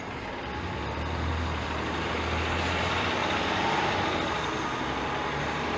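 City bus in Toronto street traffic, heard from a bicycle as a loud, continuous low engine rumble and broadband road noise with wind, steady throughout and close by.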